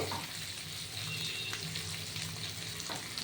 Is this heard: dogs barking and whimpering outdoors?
no